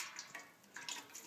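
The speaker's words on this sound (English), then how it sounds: "I'm going to pour the oil into my soap making vessel, which is a pot." Refined olive oil pours into a metal pot while making castile soap. It gives a quiet, uneven trickle with a few brief splashy surges and no talk.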